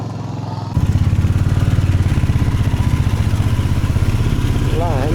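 A motorcycle carrying two riders on the road toward Tirpal Road, its engine kicking in abruptly and then holding a loud, close, steady throbbing drone, with voices faintly underneath.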